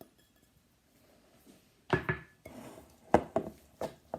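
A meatball mixture with grated Parmesan, salt and pepper is stirred in a bowl, giving a few scraping, knocking strokes of utensil on bowl after a quiet start, moderately close.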